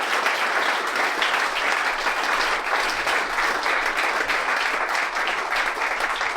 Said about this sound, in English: one more massive round of applause for these counterparts.